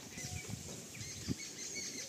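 A pigeon released from a loft beats its wings in a brief flurry of soft flapping and patter, close by, against steady outdoor background noise.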